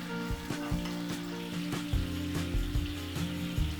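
Stuffed tofu frying in a sauté pan with shiitake soaking water and oyster sauce, a steady close sizzle with bubbling and occasional stirring knocks throughout.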